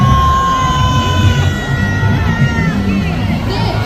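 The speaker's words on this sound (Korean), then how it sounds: "모두 함성 시작!" A crowd at an evening candlelight protest rally marking a disaster memorial lets out a loud collective shout, many voices yelling and cheering together, with some higher rising whoops over the roar.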